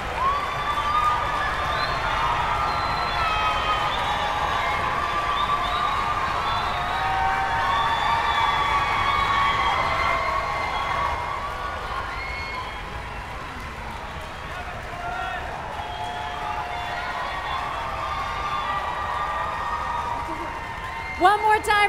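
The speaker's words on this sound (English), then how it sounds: "give them a huge round of applause, keep it going until they're all here on stage" A large audience at a high school music festival in Philadelphia keeps up steady applause and cheering for a long stretch, a broad wash of clapping with scattered whoops that eases slightly toward the end.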